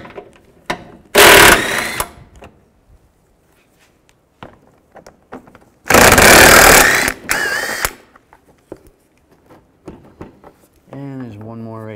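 A ratchet fitted with a 10mm socket clicks through two loud bursts of rapid turning while removing bolts under a 2008-2012 Ford Escape, with scattered knocks and handling noises between and someone speaking near the end.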